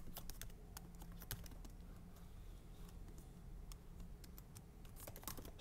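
Quick, light keystrokes on a computer keyboard as a form name is typed into an email signup setup page, an irregular patter of clicks over a faint room hum, with no voices.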